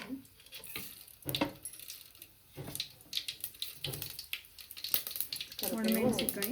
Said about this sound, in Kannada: ಒಣಮೆಣಸಿನ್ಕಾಯಿ, ಕರಿಬೇವು, ಒಣಮೆಣಸಿನ್ಕಾಯಿ ಹಾಕ್ತೀನಿ.